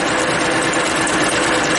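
A milling machine cuts metal at a 2 millimeter depth of cut, producing a continuous, loud, buzzing whir with steady rattling vibration throughout and no talk.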